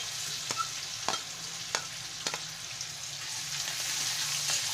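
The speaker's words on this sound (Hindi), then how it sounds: "इसे हम 2 मिनट के लिए भून लेंगे।" Onions and green chillies frying in melted butter in a kadhai for a tawa pav bhaji, a steady close sizzle broken by several sharp spoon-scrape stirs, with no talking.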